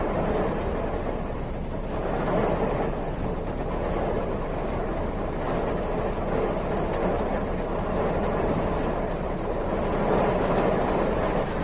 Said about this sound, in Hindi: बारिश भी काफी तेज हो गई है